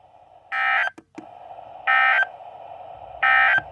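Three loud, identical bursts of harsh electronic data tones from a NOAA weather radio emergency alert system test, evenly spaced about 1.3 seconds apart, with a low steady hum between them.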